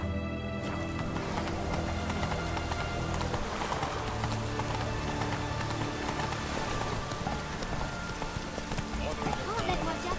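Roach the horse galloping through rain in The Witcher 3, a steady rhythmic clip-clop of hooves over rainfall, with someone talking over it throughout.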